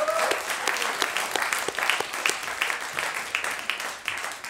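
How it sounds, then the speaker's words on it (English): Audience applause at a student union presidential election question time, steady clapping from a crowd lasting throughout with no talk over it. "Round of applause."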